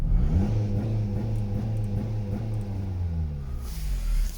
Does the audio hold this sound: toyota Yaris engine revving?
yes